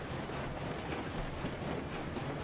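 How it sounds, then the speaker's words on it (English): The Tweetsie steam locomotive in RailRoads Online hauls a train over flat ground after a hill climb, a continuous rumbling roll of wheels and cars with a faint rhythmic clatter. It is steady and fairly loud throughout. "now this Tweetsie is pretty much on flat ground, so you would think she's going to start pulling the rest of the train up the hill"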